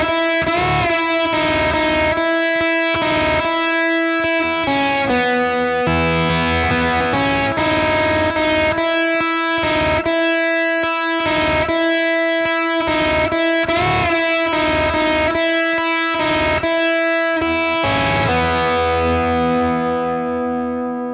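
Distorted electric guitar plays the lead solo from a song, heard alone as a run of sustained, effects-heavy notes and bends that rings out and fades at the close.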